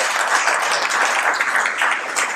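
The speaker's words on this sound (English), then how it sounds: "Let's give her a round of applause." An audience at a panel remembering Leo Politi gives a round of applause, a dense, steady patter of clapping hands heard clearly and alone.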